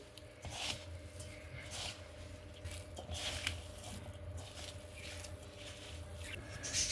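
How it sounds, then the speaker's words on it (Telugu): Bombay rava semolina dough pressed and kneaded by hand, a run of quiet close squishing and rubbing sounds in an uneven rhythm, with no talk over it. "చూడండి పిండిని ఈ విధంగా నొక్కుతా"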